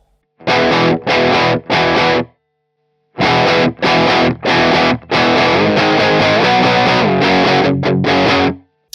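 Electric guitar played through a free amp simulator with the input saturation pedal switched off, distorted chords in several short strummed bursts separated by gaps, then a longer sustained run, loud and close with no talking.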